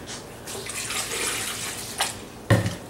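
Water is poured into a protein shake in a home kitchen as a steady splashing trickle that runs for about two seconds, followed by a short, louder splash near the end, with no talking.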